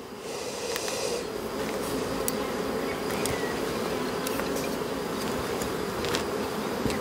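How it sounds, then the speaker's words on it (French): Bees at a beehive give a steady, dense buzz that holds evenly from start to finish, close and continuous with no talk. "on voit une ruche"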